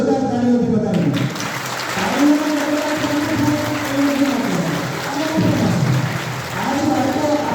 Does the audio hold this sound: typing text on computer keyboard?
no